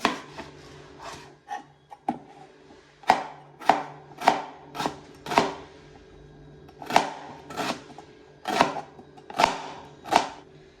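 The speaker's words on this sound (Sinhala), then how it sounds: "ඉතින් අපි ලුණු එක කපා ගමු" Knife chopping an onion on a board, a steady series of about fifteen sharp, close taps at an uneven rhythm, heard alone without talk.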